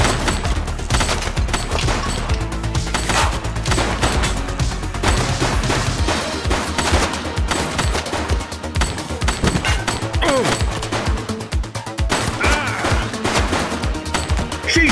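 Heavy, sustained gunfire in The Precinct, a police game, with dense volleys and rapid bursts hammering almost without pause, loud and close, and a few shouts buried in the din.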